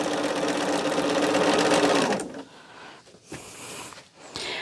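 A sewing machine runs at steady speed stitching nested quilt seams, loud and close for about two seconds before stopping, followed by faint handling noises.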